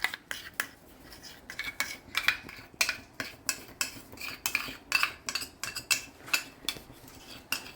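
Multani mitti clay stirred into melted soap base, a spoon or utensil clinking and scraping against the container in a steady repeating rhythm, close and fairly quiet with no talk.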